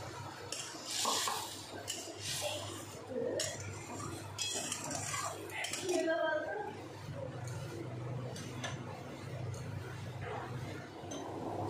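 Mustard-poppy paste is stirred into a simmering parshe fish curry in a pot, with utensil clinks and scraping against the metal over a low, steady bubbling hum.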